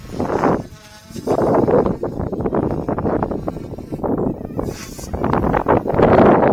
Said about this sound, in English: This is a direct drive motor.